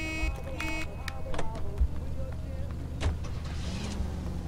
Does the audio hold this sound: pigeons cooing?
no